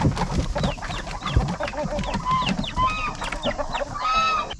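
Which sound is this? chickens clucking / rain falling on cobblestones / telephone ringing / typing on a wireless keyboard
chickens clucking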